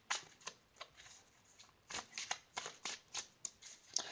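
Tarot cards shuffle in quick, faint riffling bursts, an irregular series of soft crisp flicks close by with no talking.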